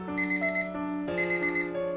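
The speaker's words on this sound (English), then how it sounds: "her alarm does seem to be going off" An electronic alarm clock in a visual novel game beeps in a steady repeating melodic pattern, clear and close with sustained bright tones, and no voices.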